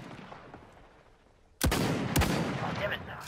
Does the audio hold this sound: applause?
no